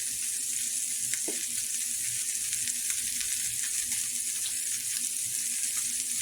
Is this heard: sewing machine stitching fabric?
no